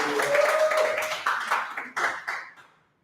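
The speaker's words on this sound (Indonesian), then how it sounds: "Aplaus yang meriah untuk Sally Lara Fida." An audience at a tax-awareness talk show event in Pontianak breaks into applause, a dense burst of clapping that swells and then fades out over a few seconds.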